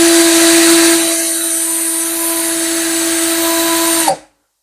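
A Beckum EB2 12V cordless drill runs at its lowest speed setting with a steady, even motor whine for about four seconds, then cuts off abruptly into silence.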